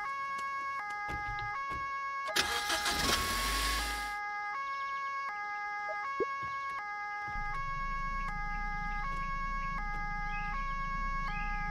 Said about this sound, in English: I need to see if I can turn off these alarms because they're going to drive me insane while we're here.